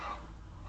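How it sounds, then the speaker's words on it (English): A dog gives a brief yip or bark near the start, then a low indoor hum continues for well under a second with no one talking. "excuse my dogs here"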